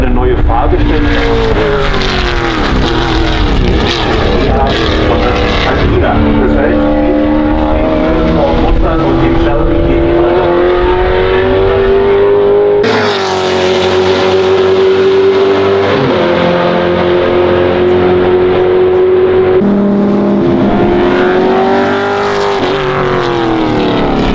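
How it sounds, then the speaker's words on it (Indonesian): A loud, roaring Fox Body Ford Mustang V8 race car engine at a DTM race holds a steady drone with rising and falling pitch, continuous and close throughout, with speech faintly mixed in. "Apalagi dengan suara V8-nya yang luar biasa."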